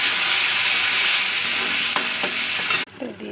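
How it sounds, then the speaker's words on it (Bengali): Black cumin seeds tempering in hot oil for a Bengali green bean paste dish, a loud dense sizzle with a couple of stirring scrapes that cuts off sharply near the end into quieter pan noise. "তো দিয়ে দিচ্ছি কালো জিরে ফোড়ন, একটু নুন দিয়ে দিচ্ছি, না ছিটকে যাবে।"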